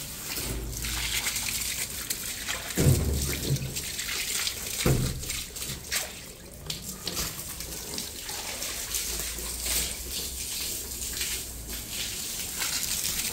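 Water running from a tap in a Moroccan house, a steady faint rushing stream with a couple of splashes and clunks.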